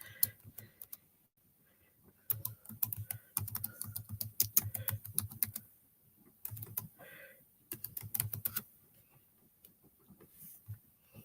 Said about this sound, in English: I have to type it in all the time